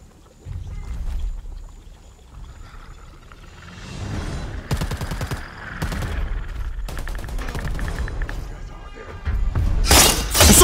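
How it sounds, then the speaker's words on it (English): Stray bullets in Predator Hunting Grounds crackle in scattered bursts of gunfire, starting quietly and growing louder, interspersed with clattering game effects and a sharp burst at the end. "I think those are just randomly stray bullets"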